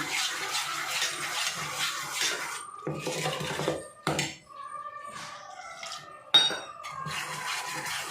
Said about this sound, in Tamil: நல்லா ஒரு விஸ்கு வச்சு அதை வேணால் நீங்கள் கரைச்சிருங்க